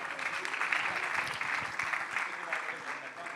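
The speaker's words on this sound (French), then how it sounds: "On peut l'applaudir d'ailleurs." An audience applauds steadily and loudly as a speaker walks onto the stage at a live event, a dense, even wash of clapping that holds throughout, with a voice talking over it.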